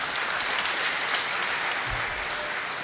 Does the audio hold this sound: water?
no